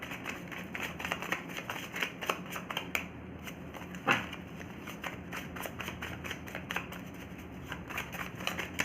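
Tarot cards being shuffled: soft, rapid papery flicks and riffles, quiet and close, with one sharper snap partway through.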